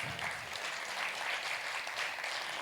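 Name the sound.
applause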